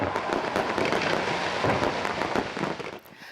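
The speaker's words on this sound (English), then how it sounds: "Fireworks lit up the night sky as spectators admired an installation at the iconic Sydney Opera House" Fireworks burst over Sydney Harbour near the Opera House during a festival of lights at night, a dense, continuous crackling and popping that fills the air and fades out at the end.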